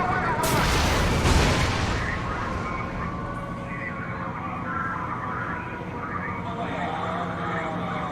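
Gunfire from the video game Saints Row The Third during an elevator fight, a dense loud burst of shots early on followed by a steady wash of battle noise and distant weapon sounds.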